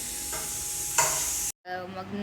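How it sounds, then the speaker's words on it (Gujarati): Mung beans are tempered in hot oil in a home kitchen, giving a loud, steady sizzling hiss with a brief stirring flare midway. The sound then cuts abruptly to silence and returns as a quieter sizzle. "હવે આપણે મગ વઘારવાની તૈયારી કરી"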